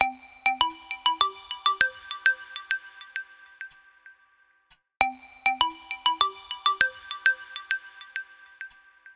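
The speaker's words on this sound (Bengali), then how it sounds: "এমন সময় ফোনটা ঝনঝন শব্দে আর্তনাদ করে উঠল।" A telephone ringtone used as a sound effect in a Bengali suspense audio drama: two bursts of bright, rising electronic chimes, each a quick run of notes, separated by a short silence and heard alone.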